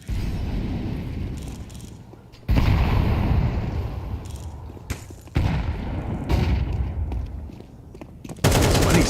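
Rapid rifle gunfire in a professional Counter-Strike match, with loud, dense bursts that start and stop abruptly and repeat several times, mixed with game noise.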